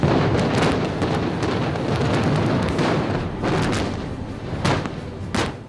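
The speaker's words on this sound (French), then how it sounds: "Tu as ce plan magique des avions avec les explosions derrière." Explosions in a Pearl Harbor war film battle scene with planes, a dense continuous barrage of loud booms and blasts with sharper bursts layered over a roaring din.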